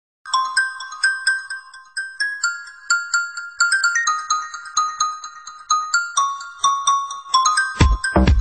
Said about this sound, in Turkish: Zilime basıyorsun lan!